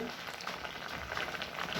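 Potatoes boiling in water in a pot on a kitchen stove give a steady, soft bubbling hiss that stays low and continuous throughout.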